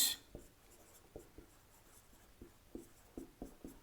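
A pen scratching on paper while working a maths problem, a string of soft, short strokes and taps at an irregular pace, quiet and close with no talk.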